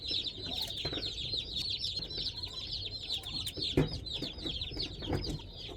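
Young meat-bird chickens cluck and peep steadily inside their shipping box, a dense chorus of chirps with occasional wing flutters and scuffling, fairly close and continuous.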